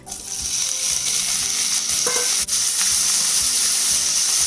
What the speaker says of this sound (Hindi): सबसे पहले हम चिकन डाल देते हैं।